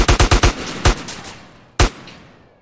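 An AK rifle in GTA San Andreas fires a rapid burst of about five loud shots, then a single shot and a later lone shot, each with a sharp crack and a fading echo.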